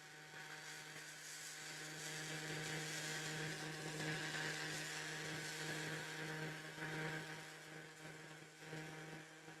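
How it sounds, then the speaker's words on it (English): Airbrush hair dryer blowing steadily and fairly loud at a miniature painting bench, a continuous even whir with a strong low hum, running alone without talk. "Yes, use the airbrush hair dryer."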